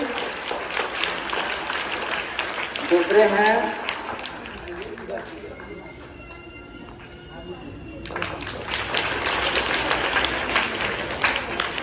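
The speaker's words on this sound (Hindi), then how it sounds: "चलिए ताली बजाइए इनके लिए।" Applause from students and staff at a school prize-giving ceremony in an Urdu middle school, a burst of clapping mixed with crowd noise and talk, rising near the start and again toward the end.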